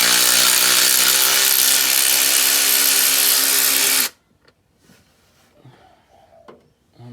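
Power tool running loud and continuous for about four seconds while undoing bolts during a manual gearbox swap on a Toyota MR2 ZZW30, then cutting out to faint clinks and shuffling.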